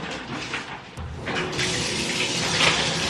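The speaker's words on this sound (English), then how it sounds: "I'm about to get in the shower." Shower water running, a steady broadband rush of spray that grows fuller partway through, close by and without talk.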